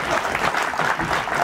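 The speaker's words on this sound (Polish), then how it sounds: "wielkie brawa!" Brief, loud burst of audience applause at a brass band's jubilee concert, dense clapping filling the moment with no voices over it.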